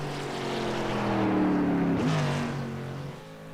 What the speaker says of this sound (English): You guys want to hear cars racing.